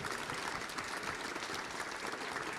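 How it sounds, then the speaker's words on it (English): A conference audience claps in a steady, sustained round of applause, dense and even from start to finish, with no voices over it. "a huge round of applause for our three chairs for their excellently succinct summing up"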